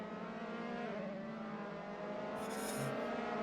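A Formula 3 race car in a racing game at Silverstone drones past with a steady, loud high-revving engine note, shifting pitch slightly as it overtakes, with a brief tire squeal near the end.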